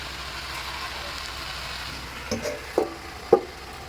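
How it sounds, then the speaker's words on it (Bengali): Chicken sizzles steadily in a pan while being cooked down village-style without water; a soft continuous hiss is broken by three clinks of a stirring spoon toward the end. "এবার কিছুক্ষণ নেড়ে নেড়ে কষার পর এর মধ্যে আমি ঢাকনা চাপা দিয়ে দেবো"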